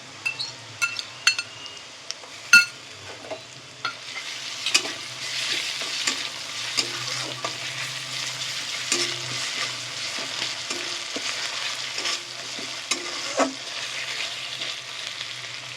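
Fried garlic with ginger paste sizzles in a pan for dhaba-style chicken tadka, opening with sharp clinks and knocks before settling into a steady frying hiss with stirring, no voices.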